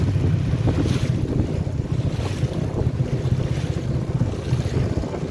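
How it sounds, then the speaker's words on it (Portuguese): River water slapping and churning against a moving boat on the Gurupi River, Pará–Maranhão border, mixed with steady engine rumble and strong wind buffeting the microphone, loud and continuous. "Agora começou a subir as ondas aqui."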